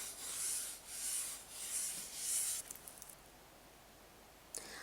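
Repeated strokes rubbing and sanding a surface smooth to prep it for acrylic decorative painting, four steady rasping passes, close and fairly quiet, then a few light scrapes and a final brief brush.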